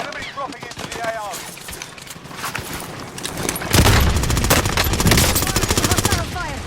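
Rapid automatic gunfire in the video game Warzone, loud sustained bursts with heavier rattling volleys in the second half, mixed with game voice lines and effects.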